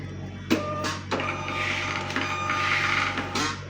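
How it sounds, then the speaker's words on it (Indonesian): A thermal X printer feeds out a Lazada shipping label, a steady close whirring mechanism with clicks marking the start and a sharper clack near the end. "Kita printnya pakai X printer ya, pakai thermal nih, thermal X printer"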